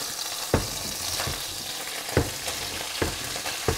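Onions and carrots sweat in a pan on the stove, giving a constant close sizzle broken by a few spaced stirring scrapes, with no one speaking.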